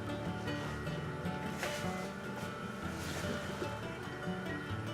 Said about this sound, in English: It is actually a pretty noisy fan. Listen to it.